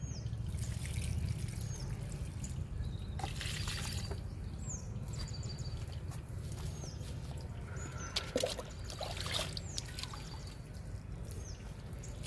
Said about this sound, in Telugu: ఇలా ప్రతి మొక్కకి వాటర్ ఇవ్వాలి.